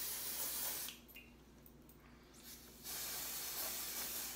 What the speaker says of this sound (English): Just the spray needs to go on first.